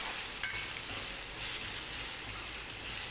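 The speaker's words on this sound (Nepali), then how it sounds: "आलुलाई पहिले अलि फ्राई गर्छु अनि त्यो मुन्टा हाल्छु" Potatoes fry in a pan with a steady, even sizzle throughout; one sharp clink of a utensil sounds near the start.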